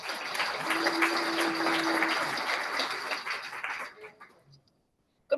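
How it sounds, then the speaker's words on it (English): An audience at a workplace induction day gives a quick round of applause, a continuous burst of clapping that holds steady for several seconds, then thins and fades into near silence. "Just a quick round of applause for Kelly."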